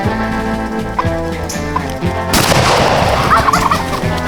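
Several wild turkeys, jakes passing one after another during a hunt, gobble loudly and repeatedly in a rolling, overlapping chorus, with a denser burst of gobbling in the second half.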